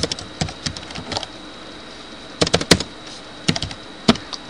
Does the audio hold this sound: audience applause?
no